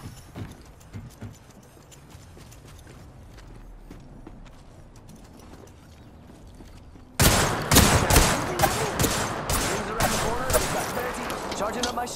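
Gunfire in the video game Apex Legends: after a quieter stretch of background game noise, loud rapid bursts of shots break out and repeat in quick volleys until the end.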